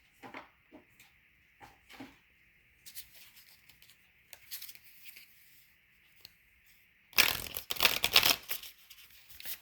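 Tarot cards being shuffled and handled to draw a closing card, with soft riffles and taps at first, then a loud, close burst of rapid shuffling near the end.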